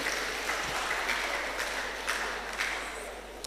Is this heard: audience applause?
yes